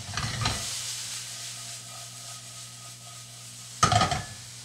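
Bacon and onions fry in a pan with a steady broadband sizzle and hiss, opening with a louder burst, settling into an even crackle, then a sharp scrape or clatter near the end.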